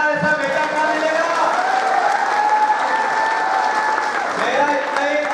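A crowd at a Congress political rally claps in sustained, loud applause throughout, with a tonal musical or electronic hum running underneath and a brief low thump near the start.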